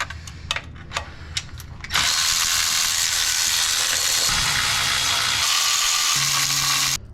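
A ratchet clicks in a few quick strokes on the transmission pan bolts of a Duramax truck, then a loud, steady whirring tool noise runs for several seconds and cuts off near the end.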